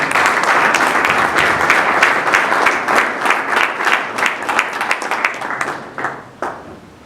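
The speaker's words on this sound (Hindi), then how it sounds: "तो जोरदार तालियों से स्वागत करते हैं" An audience applauds to welcome a speaker at an ashram event marking an eighth recovery anniversary; dense, steady clapping that gradually thins and fades toward the end, with a few last scattered claps.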